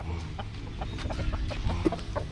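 A farm chicken clucks in short, repeated soft calls close by, with a faint background rumble and no one speaking.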